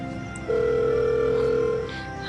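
A phone call fails to connect: one steady telephone tone rises and holds for about a second and a half, then drops away over quiet background hum.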